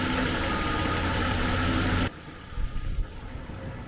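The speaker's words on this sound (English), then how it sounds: "Hear the fan whirring away there." The engine cooling fan on a Jaguar XJ40 whirs steadily and loudly for about two seconds before cutting off, leaving a quieter idling hum with a few soft bumps.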